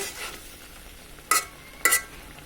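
Shrimp bhuna cooks in a pan with the lid just lifted, giving a quiet steady sizzle. Two brief, sharp metal scrapes of the spatula against the pan stand out over it.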